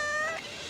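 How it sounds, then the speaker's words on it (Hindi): A cat gives a single short, high, clear meow close by that fades out quickly, with no one speaking over it. "यही तो है सुल्तान की बिल्ली"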